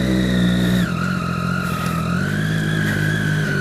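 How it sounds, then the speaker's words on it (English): Motorcycle exhaust rumbling steadily at idle in the early morning outside event grounds, a deep continuous engine tone close by that shifts pitch slightly as revs change, with no talking. "Hear my exhaust at 6:44 a.m."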